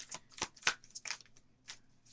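Tarot cards being shuffled close up, in quick irregular riffling bursts with short pauses between, no talking.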